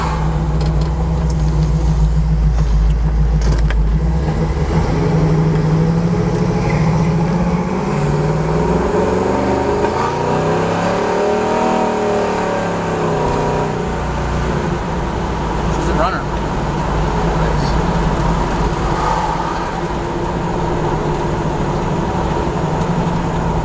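A 1969 Chevelle SS fitted with a 454 cubic-inch big-block V8 drives at about half throttle, its deep engine rumble rising and falling in pitch steadily throughout, with people talking over it inside the car.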